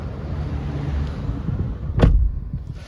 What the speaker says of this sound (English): Okay, now let's close the door.